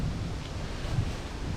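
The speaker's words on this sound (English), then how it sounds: "Apologize for the wind." Wind buffets the microphone with a continuous low, rumbling roar, no voices, steady throughout.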